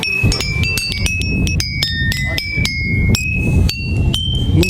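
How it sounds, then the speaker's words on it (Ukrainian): Glass bottles filled with water, played as a folk musical instrument of the kind used at weddings on a Ukrainian homestead, ring out in a quick, steady run of bright, clinking tones with a low murmur beneath. "Господар хутора демонструє, як можуть звучати пляшки з водою, такі музичні інструменти використовувалися на весіллях"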